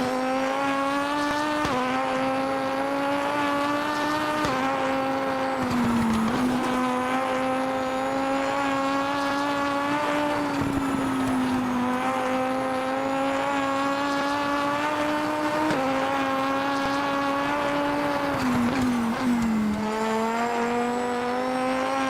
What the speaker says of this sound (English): How's this car sound under heavy decel?